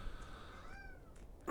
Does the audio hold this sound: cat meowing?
yes